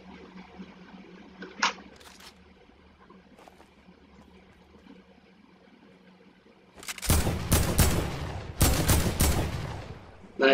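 Gunfire in Fortnite as a player shoots objects at random, several loud bursts of rapid shots close up after a quiet stretch with a faint earlier click, no talking.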